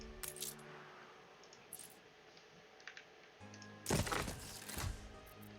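Upgrading houses in the video game Anno 1800 sets off bright clinking coin-like chimes in short bursts, a louder cluster near the end, over a quiet game background.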